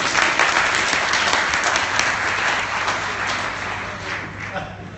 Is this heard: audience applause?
yes